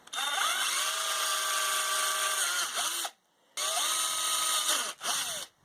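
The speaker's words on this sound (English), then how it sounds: "I think what I'm going to do is just do it with a hand drill." A hand power drill whines steadily at close range in two long runs, winding up and then winding down, with a short burst in between.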